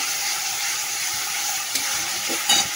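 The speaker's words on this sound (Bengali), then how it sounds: "এবারে জল দিয়ে দেবো" Water poured into a pan of sizzling fish curry masala, with a loud steady hiss of spitting oil and a brief splashing burst near the end.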